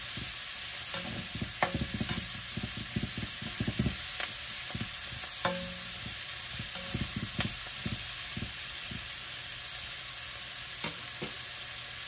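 Ginger garlic paste sautés for a drumstick and shrimp curry with black cumin, giving a steady close sizzle broken by frequent clicks and scrapes from stirring.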